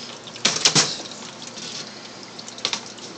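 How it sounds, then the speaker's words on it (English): Water poured into a reptile enclosure, heard as a couple of short splashy bursts near the start and a smaller one near the end, over a quiet room background. "I have to put some water in it."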